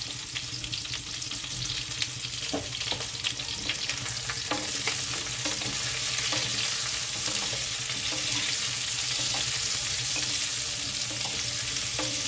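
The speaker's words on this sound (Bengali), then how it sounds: "মাছের তেলটা আমি একটু বেশি করেই নিয়েছিলাম, যাতে মাছের তেলটাতেই আমার সবজিগুলো ভাজা হয়ে যায়।" Ridge gourd, raw banana and potato frying in leftover fish oil in a Bengali kitchen, a steady close sizzle with occasional stirring clinks and scrapes throughout, no talking.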